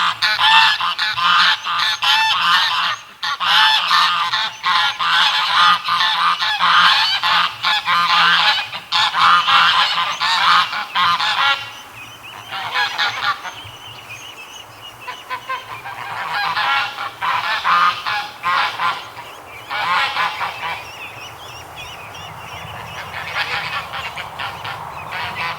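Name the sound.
geese honking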